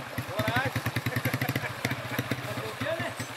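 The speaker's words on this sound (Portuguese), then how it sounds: "Trocamos o cavalo pela moto." A motorcycle used for herding cattle in the countryside, its engine chugging in a steady throbbing rhythm close by, with people talking over it.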